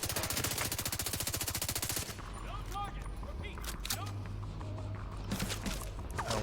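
Rapid 5.56 rifle fire in the video game Division 2, a fast burst of evenly spaced shots for about two seconds, then quieter scattered game sounds with a few distant cracks.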